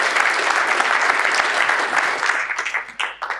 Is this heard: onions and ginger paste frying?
no